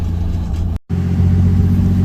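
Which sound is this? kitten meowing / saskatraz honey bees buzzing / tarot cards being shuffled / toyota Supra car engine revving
toyota Supra car engine revving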